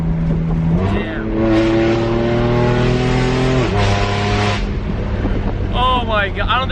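A BMW M4 F82 fitted with an Armytrix Valvetronic exhaust revs loudly up close, the engine note climbing then dropping sharply, followed by a second burst and downshift crackle, with a voice heard briefly near the end.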